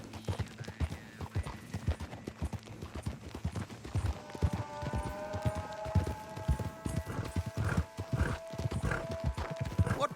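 A horse gallops along in Red Dead Redemption 2, its hooves beating out a fast, even clip-clop that carries on throughout, with a brief whinny-like tone partway through.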